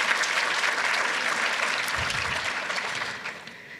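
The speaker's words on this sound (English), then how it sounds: "let's just have another round of applause for our signature sponsor" A crowd claps in steady applause, loud and continuous, fading slightly toward the end.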